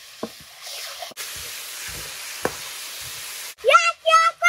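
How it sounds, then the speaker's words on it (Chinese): Chili bean paste and hotpot base stir-fried in hot oil: a steady, close hiss of frying with a few faint spatula knocks, ending in a short burst of loud, tonal voice. "炒出红油，炒出香味，兄弟们。"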